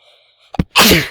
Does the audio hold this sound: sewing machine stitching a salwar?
no